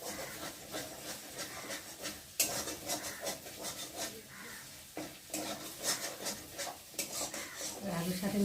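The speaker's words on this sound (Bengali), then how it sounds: "ডিমটা ভালো করে একটু ভেজে দিই।" An egg fries and is stirred together with potatoes in a pan, giving a steady scraping and rubbing of the utensil over a low sizzle, with occasional sharper clinks against the pan.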